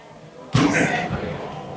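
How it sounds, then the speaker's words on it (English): A door slams shut once, a loud abrupt bang in a council meeting room with voices murmuring around it. "Steve, can you shut those doors, please"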